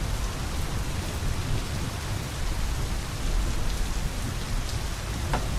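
In the video game My Summer Car, rain falls steadily on a car, making a dense, even hiss of drops that holds for the whole stretch without a break, with no voices.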